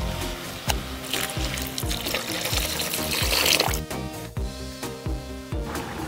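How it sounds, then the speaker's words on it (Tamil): Water is poured into a pan of egg masala gravy made with tomato, coriander powder, chicken masala and chili powder, giving a continuous trickling splash over a rhythmic background. "தண்ணி ஊற்றிடலாம்."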